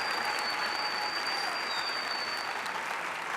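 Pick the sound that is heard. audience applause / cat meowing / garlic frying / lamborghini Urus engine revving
audience applause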